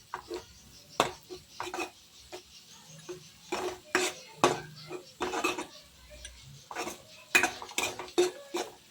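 A metal spoon scrapes and clinks against a pan while egg masala is stirred and fried, making irregular, fairly close clatters with a faint low sizzle underneath and no voices.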